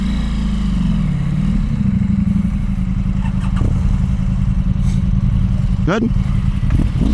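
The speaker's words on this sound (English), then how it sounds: "he looks awesome riding that bike" A motorcycle is being ridden, its engine a loud, steady low drone that holds throughout, while a person speaks briefly over it.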